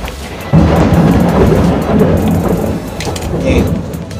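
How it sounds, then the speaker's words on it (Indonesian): Heavy rain pours steadily, loud and close, under a deep rumble of thunder, with a sudden burst of added loudness near the start. "ini lagi hujan soalnya"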